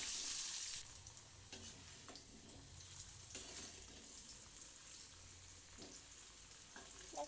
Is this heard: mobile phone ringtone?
no